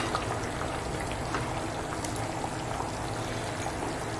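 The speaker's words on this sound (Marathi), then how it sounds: "मस्त अशी उकळी आली बघा" Karli fish curry boils steadily in a pot, a dense, continuous bubbling and popping that stays close and even for its whole length, with no voices over it.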